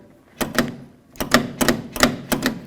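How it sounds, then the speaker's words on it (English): A locked GMC Sierra 1500 truck door, 1988-2002 era, has its outer handle pulled repeatedly, giving a series of close, sharp mechanical clicks and clacks in quick pairs with short pauses between. "push on this, pull on the outer handle."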